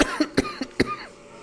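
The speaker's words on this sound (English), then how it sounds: "I don't mean to be coughing so much" A quick burst of about five sharp, close coughs in rapid succession from one person, then a brief trailing breath, alone without speech.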